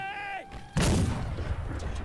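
A massed musket volley fired by a formed line of infantry in the Civil War game Battle Cry of Freedom, one loud sharp blast that rolls into a reverberant boom and rumble, following a brief shouted command.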